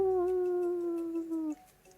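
A human voice imitates a dog's howl, one sustained wavering tone lasting about a second and a half that slides slightly downward before cutting off, heard alone and fairly close.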